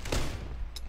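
Gunfire aimed at the player in a first-person shooter game, a couple of quick sharp shots within a brief moment of battle ambience.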